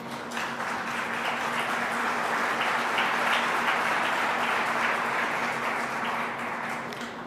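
Steady, dense applause from an audience at a political speech in the Mexican Senate, sustained and evenly loud for the whole stretch with no talk over it.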